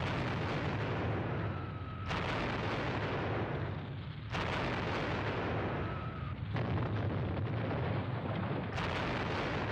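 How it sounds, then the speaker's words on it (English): Heavy artillery strikes explode in a Squad Battles war game, three long rolling booms spaced a few seconds apart, loud and close, each roaring with debris rumble before cutting to the next blast. "even more artillery coming in here"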